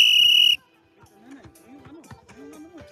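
A referee's whistle blown once in a single loud, steady blast lasting about half a second during a team ball game at a lively event, followed by quieter crowd and commentary voices.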